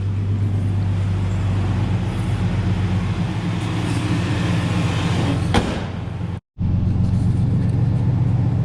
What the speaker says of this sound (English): She cranked right up.